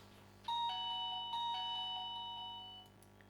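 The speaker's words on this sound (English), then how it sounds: "When someone presses the button, the doorbell sounds." A wireless doorbell chime, a Reolink WiFi doorbell camera, plays a short sequence of ringing electronic tones that ring out and slowly fade, fairly quiet, with no voices.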